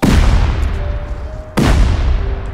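C4 charge detonating during a raid in a survival shooter game, two loud booming blasts about a second and a half apart, the second one abrupt, each trailing into a long rumbling decay.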